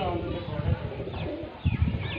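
A pigeon coos in low, soft repeated phrases close by, with a brief pause midway before a fuller burst of cooing near the end, accompanied by faint rustling.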